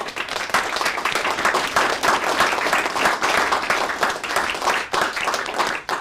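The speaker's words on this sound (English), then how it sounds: "can we just have a final round of applause for these young councillors who are all running again" An audience in Wellington applauds the young councillors, a steady, dense round of clapping that fills the whole stretch without pause.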